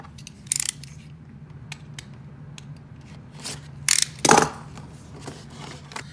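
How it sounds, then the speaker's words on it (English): Scissors snip and cut at a cardboard toy box, with scattered short crisp clips and rustles spread across a quiet background, a few louder cuts near the end. "Let's get this box open."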